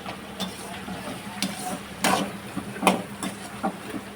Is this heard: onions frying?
yes